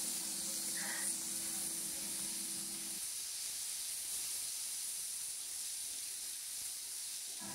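Chopped onion sizzling in hot oil with bay leaf, dried red chilli, cumin and black cumin, a steady faint hiss running throughout, with a brief hum at the start.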